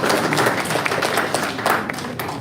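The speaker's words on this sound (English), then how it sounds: "So I think we should all clap for ourselves." An audience at a live public-health and conservation event claps together, a dense burst of many hands that swells and then tapers over a couple of seconds, with no talk.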